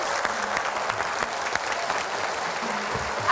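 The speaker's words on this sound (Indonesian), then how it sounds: "Tepuk tangan yang meriah." A crowd applauds to welcome the Governor of DKI Jakarta, Pramono Anung, at a special program, a sustained, even roll of many hands clapping with a few sharper claps standing out.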